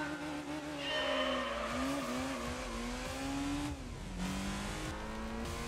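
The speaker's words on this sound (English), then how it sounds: "I gotta rev it out" A car engine in Gran Turismo 3 revs hard, its whining tone climbing and dropping between gear shifts, loud and continuous with a faint buzzing edge.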